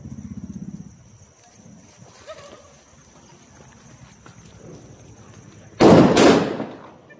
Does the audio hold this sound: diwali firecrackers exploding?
yes